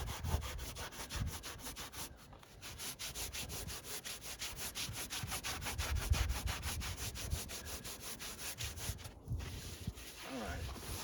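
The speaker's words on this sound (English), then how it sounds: "Because the foam is so easy to sand, it's just as easy to sand it" Foam being hand sanded while shaping a fiberglass mold, a steady close rasping scrub of back-and-forth strokes with brief pauses, fairly quiet throughout.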